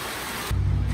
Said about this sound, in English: My God, it's raining hard.